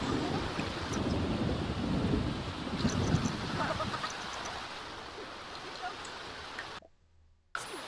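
Steady rain with low rumbling in a Sims 4 thunderstorm, a dense continuous wash that thins midway and briefly cuts out near the end, with no talking.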